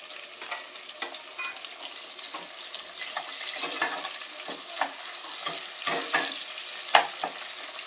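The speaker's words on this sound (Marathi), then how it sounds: "कांदा कांदा परततोय" Three sliced onions sautéing in a pan with oil, giving a continuous bright sizzle and occasional stirring scrapes and taps, close by with no voices.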